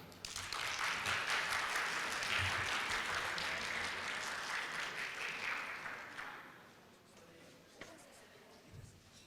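Audience applause at a college innovation-support project results-sharing event, steady broadband clapping from a crowd that swells then fades out after about six seconds, leaving a quiet room.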